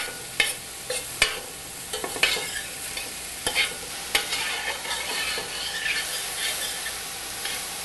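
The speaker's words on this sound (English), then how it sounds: "Alright, these onions and this garlic are starting to sizzle." Onions and garlic sizzle in olive oil in a pan, a steady frying hiss with repeated scraping clacks of a utensil stirring up close, fading to a softer, continuous sizzle.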